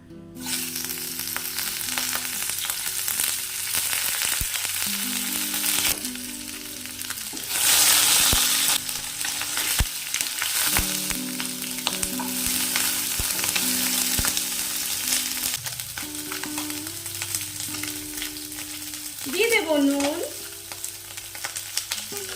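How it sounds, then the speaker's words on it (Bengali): Cut singhi fish frying in hot oil, a loud continuous close sizzle that swells and settles over time, with occasional clatter from stirring and no speech. "তেল গরম হয়ে গেছে দিয়ে দেব আমাদের কেটে রাখা শিঙি মাছগুলো"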